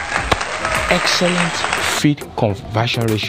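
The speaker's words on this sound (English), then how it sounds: "I think we need to clap for this breed." Audience applause during a talk comparing broiler chicken breeds, starting with the Ross 308; a burst of clapping fills the first two seconds under someone speaking, then fades as his talk continues.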